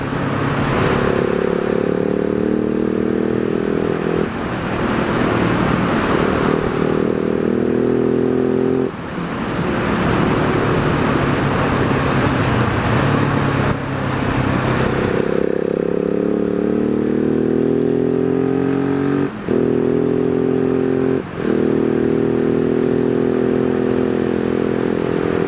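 A 2018 Husqvarna 701 SM single-cylinder motorcycle accelerates hard through several gears, its loud, close engine note climbing in pitch with brief dips at each shift, mixed with wind noise and no talk.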